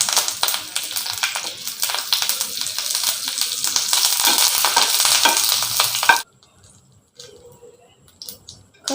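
Dried chillies and curry leaves fry in hot oil in a kadai with a loud, dense sizzle and crackle, close by. The sizzle cuts off abruptly, leaving faint scraping and clinks.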